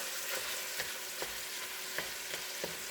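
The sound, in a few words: onions, garlic and plant-based sausage frying in a pot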